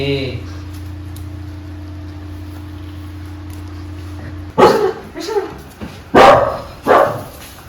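A dog barks several times in loud, close bursts during the second half, with a steady tonal hum beforehand and a voice briefly heard among the barks.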